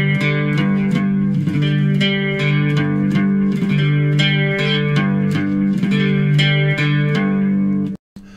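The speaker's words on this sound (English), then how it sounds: "You pick the root, that's the lowest string. Then you strum across all three" Three-string fretless cigar box guitar played with a slide in a steady picking pattern, root string then strums across all three, in a continuous rhythmic run for about eight seconds, loud and alone before stopping abruptly.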